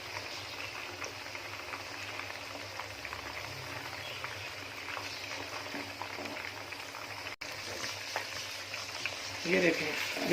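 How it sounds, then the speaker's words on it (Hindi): Chicken pieces fry in a pan on a normal flame for Afghani chicken gravy, keeping up a continuous, even sizzle of moderate loudness with a slight rise near the end. "आपने इसको फ्राई बिल्कुल नॉर्मल आंच पे करना है।"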